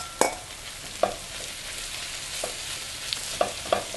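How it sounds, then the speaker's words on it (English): Sliced button and portobello mushrooms fry with softened onions in a pan, giving a continuous soft sizzle broken by a few sharp spatula scrapes and clicks at irregular intervals. "Now that the onions are starting to get soft, I'm going to add the 1 pound of sliced fresh mushrooms."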